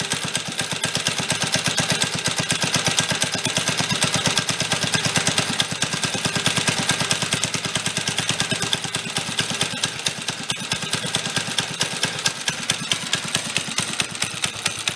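A Corvair engine fitted in a Monza SS go kart idles while running rich, as if the choke were on, giving a steady, fast, even pulsing drone that stays close and constant with no talk.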